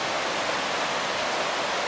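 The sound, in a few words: Gore Creek stream flowing near campsite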